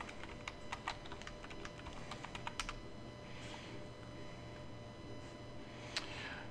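Soft, quick typing on a computer keyboard, a run of light key clicks for a few seconds, then a couple of scattered taps against a quiet background hiss.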